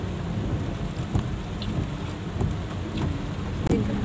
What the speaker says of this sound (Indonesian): Ini diguyur hujan lebat.